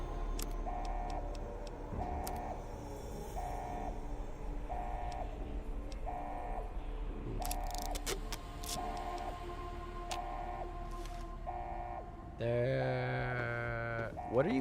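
A car drives through the Fallout New Vegas game world, giving a steady low engine drone under a repeating pattern of soft ticking game tones that shifts character near the end, with no voices.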